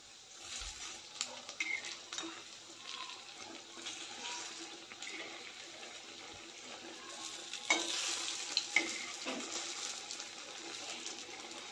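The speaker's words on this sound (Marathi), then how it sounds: "वडे एका बाजूने चांगले भाजलेत. आता मी हे उलटून घेते." Puffed rice (churmure) vadas fry in a pan with a soft continuous hiss and sizzle that swells louder near the end, along with a few faint clinks and no speech.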